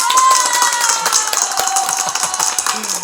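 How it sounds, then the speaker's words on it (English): An audience at a live dressage freestyle event claps for Alex Hill, with dense, lively applause close by that holds steady for a few seconds. "Ladies and gentlemen, big round of applause for Alex Hill."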